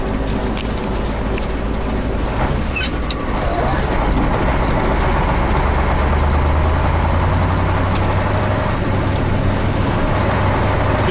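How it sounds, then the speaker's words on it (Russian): A tractor engine runs with a continuous low rumble, steady and fairly close, near a small woodworking plant, holding an even drone throughout with no clear talk. "Трактор гоняет."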